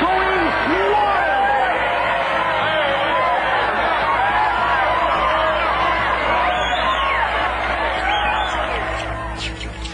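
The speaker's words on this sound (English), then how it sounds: "The crowd is going wild." A large crowd roars and cheers loudly and continuously, with whoops and yells rising over the din, fading slightly at the end.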